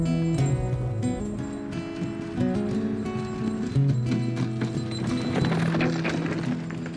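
Hooves of horses pulling a sleigh clip-clop steadily in a brisk rhythm at a Russian winter event, close by, beneath a layer of music.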